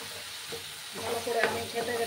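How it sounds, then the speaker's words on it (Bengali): Maggi masala mixture for baigan bharta stirred and frying in a pan, a soft steady sizzle with spoon scrapes growing busier toward the end, close and fairly quiet. "ভালো করে সমস্তটাকে মিক্স করে নিচ্ছি আমি"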